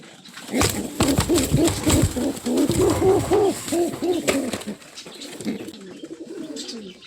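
Pigeons coo in a home pigeon loft where fresh chicks have hatched, several birds sounding a steady overlapping run of soft rolling calls, close and fairly loud, easing off toward the end.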